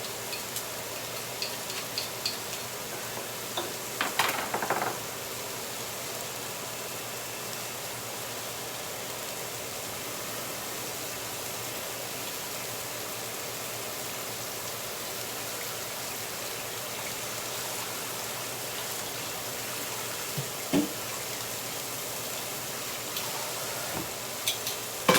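Chicken fajitas sizzling in a hot frying pan: steady, even hiss and crackle running throughout, with a few louder pops and clatters, and no talk.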